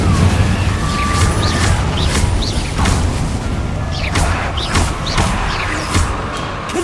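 Fire spells cast repeatedly in the game Hogwarts Legacy: a run of sharp whooshing bursts and crackling impacts, several in quick succession, loud over a dense rumbling battle backdrop with no talk.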